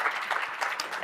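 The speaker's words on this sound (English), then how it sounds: "Round of applause for Lily, everyone." Brief audience applause in a conference room during a magician's presentation, a short spatter of clapping heard faintly from a distance.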